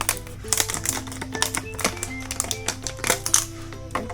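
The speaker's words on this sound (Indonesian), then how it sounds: "Kita gunting aja." Scissors cut a used plastic bottle in half to make a hydroponic planter, giving a quick series of close, crisp snipping clicks and crackles in an irregular rhythm, with no talking.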